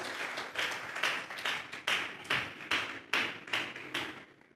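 Congregation in a church service clapping in unison as an offering to God, a steady series of loud, sharp rhythmic claps roughly twice per second, each ringing briefly in the room before fading at the end.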